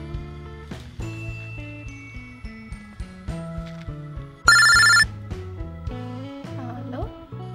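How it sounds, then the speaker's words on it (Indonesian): A telephone rings during a call, a short, bright electronic ringtone burst of about half a second rising over ongoing background music with a plucked, rhythmic melody. "Nah, telepon si Benny ah."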